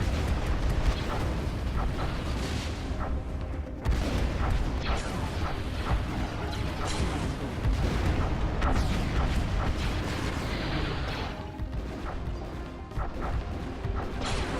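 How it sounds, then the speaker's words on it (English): Battlecruisers in a Stellaris space battle trade weapons fire, a dense, continuous barrage of crashing impacts, booms and bursts layered over a heavy rumble, loud throughout with no pauses. "Some of our new battlecruisers are engaged in battle."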